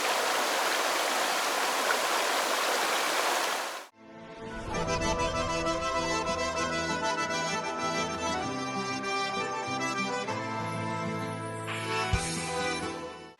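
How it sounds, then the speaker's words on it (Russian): A rushing mountain river in Ingushetia gives a loud, steady broadband hiss for about four seconds, then music takes over with a faint trace of water beneath it. "Бежит река"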